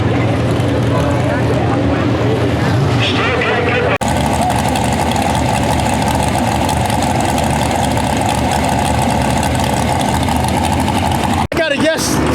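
A tractor pull engine roars steadily and loudly at a county fair, a dense continuous drone with a sudden shift partway through, and people talk over it throughout.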